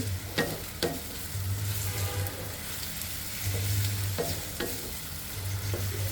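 Onions fry in a pan for Peshawari chicken with a close, continuous sizzle, broken by a few sharp stirring clicks and scrapes, over a low intermittent hum.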